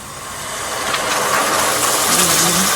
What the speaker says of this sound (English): That's the sound of the water fighting with the ghee.